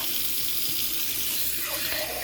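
Hot water runs steadily from a household tap into a sink, a constant loud hiss and splash that continues throughout, close up.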